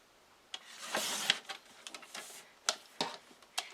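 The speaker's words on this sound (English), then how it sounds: "I'm going to trim these just to 6 inches" Card paper is trimmed on a paper trimmer, with faint close sliding rasps and scattered ticks and clicks, quiet and alone.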